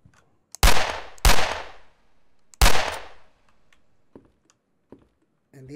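Three loud, sharp gunshots from a first-person home-invasion horror video game ring out close by, each with a short decaying tail, the first two in quick succession and the third after a pause, followed by faint clicks.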